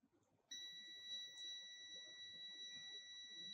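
A multimeter on its buzzer range beeps while testing a diode, a steady high continuous tone that starts abruptly and holds without break, close and fairly quiet.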